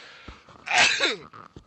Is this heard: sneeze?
yes